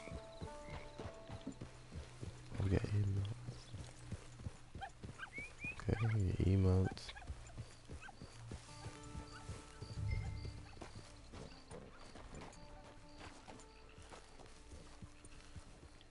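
Hooves clip-clopping from a horse in Red Dead Redemption 2 Online, intermittent steps mixed with game sounds and a possible whinny, heard under someone talking.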